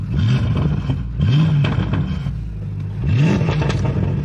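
A Lamborghini Urus in sport mode gets three short blips of throttle, each engine note rising and falling back to a low idle rumble, close and loud.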